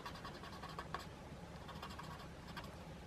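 Faint scratching and rubbing of pencil on paper as a drawing is shaded and blended, soft irregular strokes close to the microphone with no talking.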